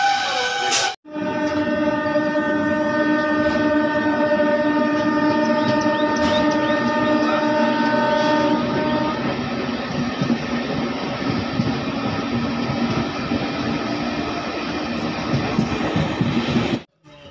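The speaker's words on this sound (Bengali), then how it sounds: "আসানসোল থেকে ছেড়ে আসছে আমাদের এই লোকাল ট্রেন" A local train from Asansol pulls into Durgapur station, its loud sustained horn blaring for several seconds over a continuous rumble and clatter of wheels that carries on steadily.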